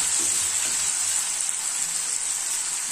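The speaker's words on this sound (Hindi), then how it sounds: "टमाटर डालकर अच्छे से इसको फ्राई करेंगे" Chopped tomato and green chili frying with cumin seeds in a pan of hot oil while cooking lotus stem, giving a steady, close, broadband sizzle that holds even for the whole stretch with no voices.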